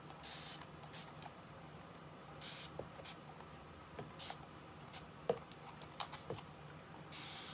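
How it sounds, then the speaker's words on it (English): Several short, breathy spritzes from a spray bottle, spaced irregularly, fairly quiet, with small taps and clicks between them. "I'm just going to spray it with water now"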